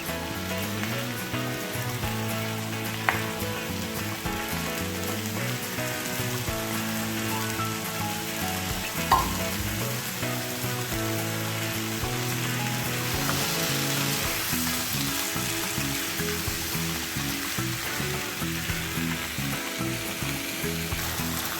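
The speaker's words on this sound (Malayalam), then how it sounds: "കട്ട് ചെയ്ത് വെച്ച സോസേജ് കുറച്ച് ഇട്ട് കൊടുത്ത് നന്നായിട്ട് ഇളക്കി യോജിപ്പിക്കുകയാണ്" Chopped sausage pieces fry in a pan with a steady, even sizzle while being stirred. Occasional soft clinks from the stirring break through, and no one speaks.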